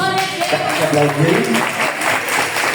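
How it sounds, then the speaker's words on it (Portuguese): A church congregation applauds during a Sunday morning family service, steady clapping mixed with voices and a tonal vocal line running through the whole stretch. "Por favor, aplauda ao Senhor Jesus."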